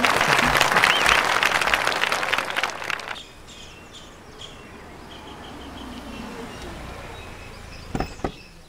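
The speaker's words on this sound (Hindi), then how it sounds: "तालियां बजाएं।" Brisk crowd clapping bursts out loudly for about three seconds, then cuts off abruptly, leaving a quiet outdoor background with faint chirps and a couple of brief knocks.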